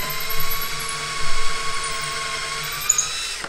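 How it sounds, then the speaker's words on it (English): A power drill bores a hole through a painted pine cabinet for hardware, with a block of wood held behind to stop splintering; a steady high mechanical whine runs close and continuous, with slight pitch and load shifts. "And back your drill back out of it."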